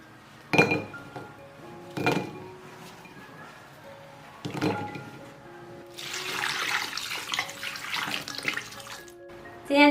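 Chicken fat is rinsed in a kitchen: a few sharp clinks of a dish or bowl come first, then a tap runs in a steady, splashing stream until the end.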